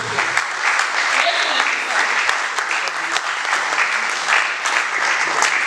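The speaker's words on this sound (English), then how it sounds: "Round of applause." Applause fills the room at a seminar on oil and gas in Nigeria as the audience welcomes a professor to the podium, steady dense clapping sustained throughout at moderate loudness with no talk over it.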